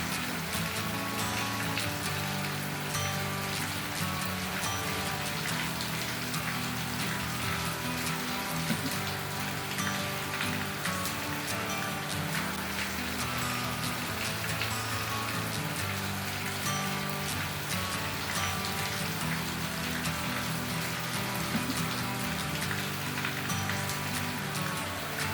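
Heavy unseasonal rain pours down in Rajapur, a dense, unbroken roar of drops drumming on surfaces throughout, loud and close with no voices.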